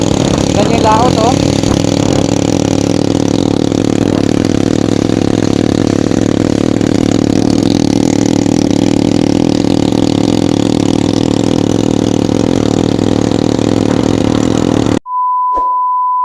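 A motorcycle tricycle (tora-tora, kolong-kolong) engine drones steadily while riding, loud and close with road noise, and a short electronic beep sounds at the end.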